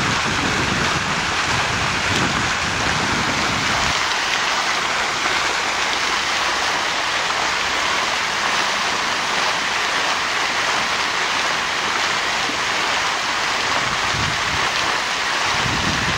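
Water rushes outdoors in a steady broadband wash that runs without a break, with some wind buffeting the microphone.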